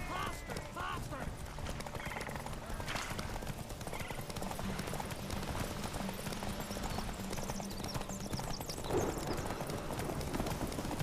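Horses gallop during a race in the video game The Witcher 3, rapid clip-clop hoofbeats running throughout with occasional whinnies, under character voices and game sounds.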